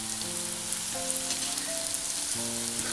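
Red spinach kofta frying in oil, a steady broadband crackle and hiss with no talk, while faint tonal hums and beeps run underneath.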